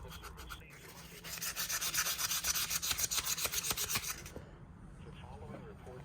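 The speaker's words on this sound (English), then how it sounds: "I'll hit these little brass pins with 400 grit sandpaper." Small brass knife pins on a vintage Case XX knife are rubbed with 400 grit sandpaper, giving close, rhythmic scratchy strokes in a quick back-and-forth pattern for a few seconds, then fading.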